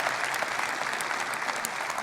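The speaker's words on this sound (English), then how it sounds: "definitely deserves a round of applause for sure" An audience at a Vue.js conference talk in Amsterdam applauds with dense, steady clapping that fills the room, loud and continuous throughout with no voices over it.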